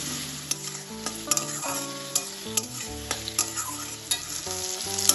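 Onion and tomato sautéing in oil in a pan with a little salt, a steady close sizzle broken by repeated stirring scrapes and clinks, with music playing along underneath.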